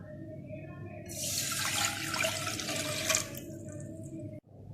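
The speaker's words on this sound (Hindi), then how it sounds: "अब एक पैन में 2 कप पानी डालूंगी।" Two cups of water pour into a cooking pan for semolina halwa, a close, steady splashing rush that swells and then stops abruptly.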